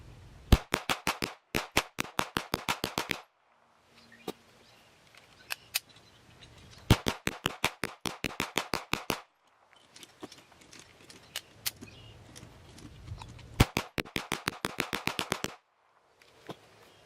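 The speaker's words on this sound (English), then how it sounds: "so he's shooting and I'm loading" Tisas BR9 9mm pistol fired during an endurance test, sharp loud shots in rapid strings of about a dozen, with quiet gaps between magazines and a few single shots.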